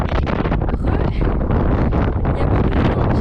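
Strong wind buffets the microphone in a loud, continuous roar that gusts and rumbles, with faint French talking buried underneath, on Faial Island in the Azores.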